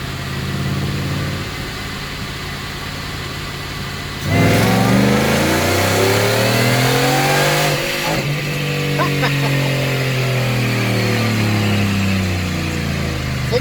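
A supercharged Ford F-150 Roush Nitemare engine revs hard through third gear, a loud, close, rising roar that climbs steadily, eases briefly, then pulls again with a strong mechanical drone.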